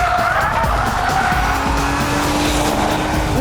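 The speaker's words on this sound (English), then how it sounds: "Nice, clean and crisp acceleration and very, very quick gear changes." A car on a racing circuit accelerates hard through a series of very quick gear changes, its engine loud and close, with some tyre squeal beneath the roar.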